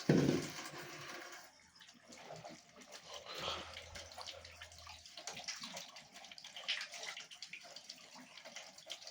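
Raw potatoes being washed by hand in very cold water for aloo tikki, a steady splashing and running-water wash heard close up and alone across the whole stretch, with a brief louder burst at the start.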